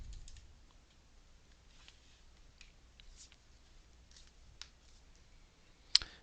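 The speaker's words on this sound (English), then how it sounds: "I'm assuming Matt is typing" Faint, sparse typing on a computer keyboard, with scattered soft key clicks and one sharper tap near the end against a quiet background.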